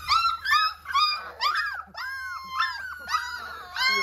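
A chocolate female puppy whimpers and yips in a steady run of high, wavering cries, close by and with no voices over it.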